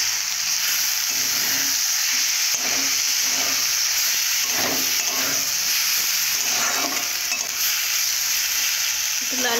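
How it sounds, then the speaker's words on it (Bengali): Potatoes frying with chilli, turmeric and salt give a loud, steady sizzle, while a spoon scrapes the pan in regular stirring strokes. "একটু লাল লাল করে ভেজে নেব।"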